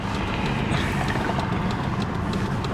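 Steady engine drone from a 2005 Chevy Blazer with a 4.3 V6, a continuous low rumble heard from inside the cab with road noise and faint rattles, no one talking.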